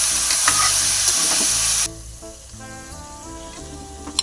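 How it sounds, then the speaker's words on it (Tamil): Country chicken pieces sautéing in hot oil in a pan for a gravy, a loud, bright sizzle that drops suddenly to a softer frying crackle partway through, with scraping stirs of a ladle, close up and without speech. "சிக்கனை நல்லா எண்ணெயில் வதக்குங்க."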